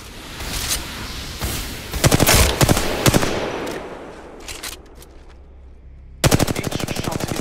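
Automatic gunfire rattles through an Apex Legends training range in several loud, rapid bursts with brief pauses between them, and a final fast burst fills the closing second.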